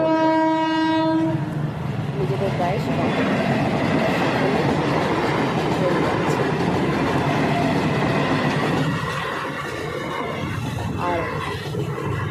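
Train rolling through a railway level crossing with the gate down, a loud horn blast at the start and then a steady heavy rumble of wagons passing close by, with a voice talking over it.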